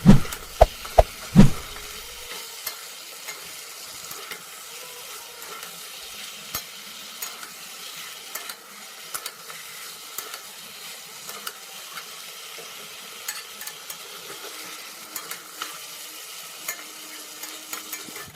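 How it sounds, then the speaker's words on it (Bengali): Meat cooking down in a pan is stirred so it won't stick, with a few sharp spoon knocks at the start, then a soft continuous sizzle broken by light scraping clicks. "তো একটু নাড়িয়ে নিচ্ছি মাংসটাকে যাতে তলায় লেগে না যায়"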